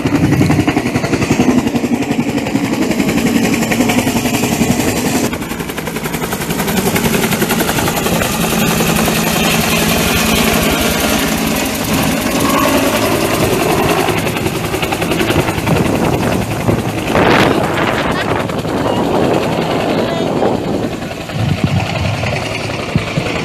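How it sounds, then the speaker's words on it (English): Loud, continuous rotor thump and engine roar of a military helicopter hovering close by during a heliborne troop drop, steady throughout with no talking. "The helicopter will hover while ground forces will drop towards their initial entry point."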